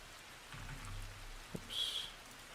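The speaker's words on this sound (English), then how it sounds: "So I'll do light rain." Light rain ambience chosen as background, a faint steady hiss with a low hum, a brief click and a soft tonal chime partway through.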